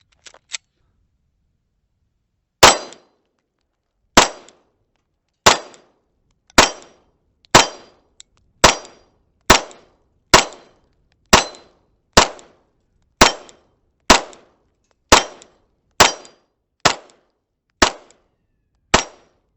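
A pistol fitted with a CVLife WolfCovert red dot fires about seventeen sharp, loud gunshots at a steady pace of roughly one per second, preceded by a couple of faint clicks, with no talking.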